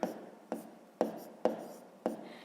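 Pen writing out a fifth-grade math solution on paper, five short scratchy strokes at a steady rhythm, close and fairly quiet, with no voice.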